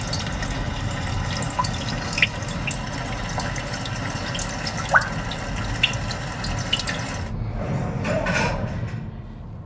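Simulated rain from the nature sounds feature plays inside a Kia Seltos SX Turbo AWD as a soft, continuous patter with occasional drips. It cuts out near the end.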